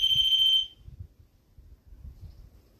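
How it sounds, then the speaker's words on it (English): One clear high-pitched electronic beep from a detector lasting about half a second, at West Kennet Long Barrow, followed by quiet low rumbling. "it's going to go beep"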